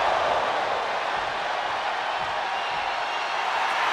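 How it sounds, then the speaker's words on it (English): Steady wrestling arena crowd roar in WWE 2K24, a dense continuous wash of cheering at even loudness throughout. "The sound of this crowd is deafening, and he's asking for more."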